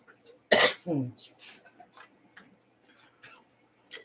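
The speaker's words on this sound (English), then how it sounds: "Excuse my coughing" One sharp cough close by, followed by a quieter second cough and faint clicks in an otherwise quiet room.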